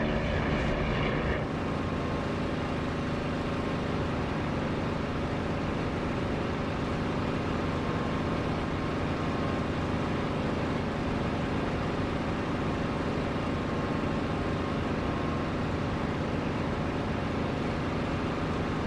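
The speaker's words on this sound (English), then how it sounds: "I'll close the canopy and then you'll hear the difference." Aircraft engine heard from the cockpit with the canopy closed in the DCS flight simulator game, a loud, constant, muffled drone with a brief shift as the canopy shuts near the start.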